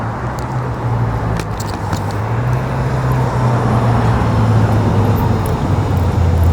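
A pickup truck idles and rumbles nearby in a low steady engine drone, with a few light clinks and metallic taps over it and traffic noise behind.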